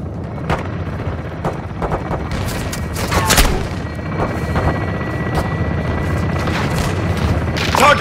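Call of Duty Modern Warfare 2 artillery strike on PS5: repeated heavy booms and gunfire cracks scattered across the battlefield, with a dense rumble and distant rotor-like drone underneath, loud and continuous.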